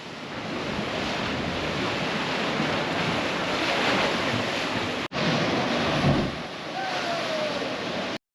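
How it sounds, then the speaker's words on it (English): Ocean waves surge against the rocky shore at Thunder Hole in Acadia, a loud continuous wash of surf with heavy wind buffeting on the microphone and one brief dropout partway through. "the waves here were pretty good nonetheless"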